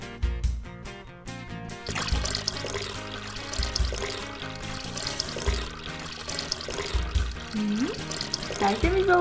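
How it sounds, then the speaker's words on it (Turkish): Running water from a tap as a brush is rinsed at a play beauty salon, a continuous splashing flow after a brief musical start, with faint background sounds. "Fırçamı da yıkayayım."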